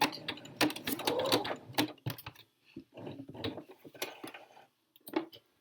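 Domestic sewing machine stitching a boxy tee sleeve seam to the end, running in bursts of rapid mechanical whirring with brief pauses between, close and fairly quiet.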